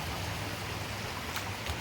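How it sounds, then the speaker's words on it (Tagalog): Continuous gentle rush and patter of a shallow creek flowing over its bed, steady broadband water noise close by, with no voices. "tingnan niya ang sapa namin"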